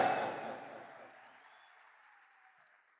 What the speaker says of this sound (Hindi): मैं भी ताली बजाना चाहता हूं